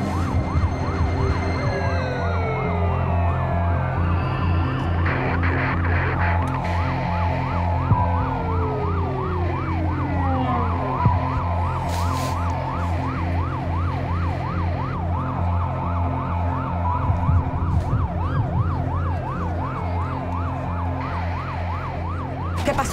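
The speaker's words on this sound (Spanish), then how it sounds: "Está llegando la ambulancia." An ambulance siren wails in a steady, repeating rise-and-fall cycle, loud and close throughout with road traffic rumbling underneath and no talk.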